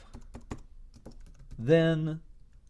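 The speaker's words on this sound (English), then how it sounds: "Let me type it." Several soft, scattered keystrokes tap on a computer keyboard, followed by a short voiced sound from a person.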